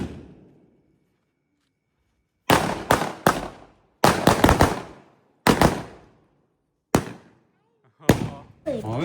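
Firecrackers and balloons set off together during Diwali, a series of sharp, loud bangs in quick clusters with short gaps between them, each burst decaying into a brief rattle.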